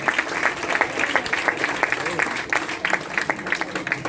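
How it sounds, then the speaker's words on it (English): An audience at a medical college pharmacovigilance poster competition applauds as a trophy goes to the winning team, producing loud, continuous clapping with a voice faintly underneath. "A big round of applause for them."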